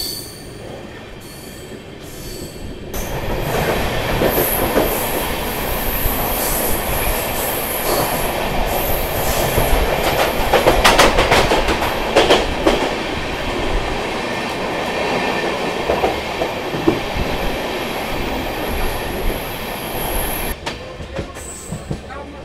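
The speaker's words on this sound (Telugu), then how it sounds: "మన ట్రైన్ యాక్సిలరేషన్ మొదలైంది ఇప్పుడు." An Amrit Bharat push-pull superfast express from Mumbai LTT to Saharsa picks up speed, its rail noise swelling from a quiet start into a loud, steady roar of wheels and carriage rumble with metallic squeals, heard from inside the coach.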